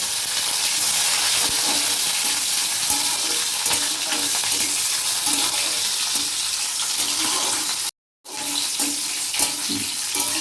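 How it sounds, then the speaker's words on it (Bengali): Chopped capsicum frying in a pan, a loud, continuous close-up sizzle with faint stirring ticks, cut by a brief gap of silence near the end, no talk. "কুচিয়ে রাখা ক্যাপসিকামগুলো দিলাম, এটা একটু ভেজে নেব।"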